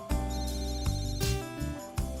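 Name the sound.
telephone ringing, incoming call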